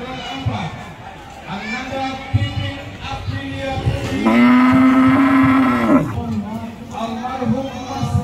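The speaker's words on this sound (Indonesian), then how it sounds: "Sapi terakhir punya Bapak Aten dan keluarga." A cow at a mosque's Eid al-Adha qurban sacrifice in Batam gives one long, loud moo in the middle of the clip. Crowd chatter and talking continue all around it.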